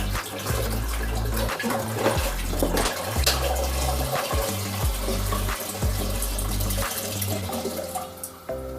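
About three litres of water run into a container for a sugar wash, a steady close splashing and gurgling flow that continues with small surges and fades at the end.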